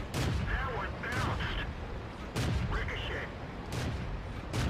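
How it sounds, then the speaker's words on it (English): Tank cannons fire repeatedly in the World of Tanks video game, several heavy booming shots spaced a second or so apart over dense game noise, with someone talking over the action. "And there is literally 12 shots coming out"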